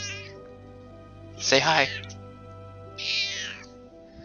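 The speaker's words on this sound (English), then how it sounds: "She's rather hoarse for a cat, honestly." A pet cat gives two hoarse, raspy meows, a loud one near the middle and a softer one near the end, close by, after a person speaks briefly.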